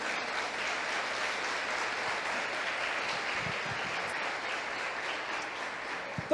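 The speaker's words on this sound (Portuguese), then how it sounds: "Você pode aplaudir o Senhor por isso aí?" Steady applause from a church congregation fills the room evenly for several seconds, moderately distant and without talk over it.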